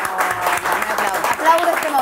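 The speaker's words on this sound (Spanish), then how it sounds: "Un gran aplauso para Jani Dueñas." Audience applause greets a guest on a comedy talk show, a steady wash of clapping that runs for about two seconds with voices mixed in underneath.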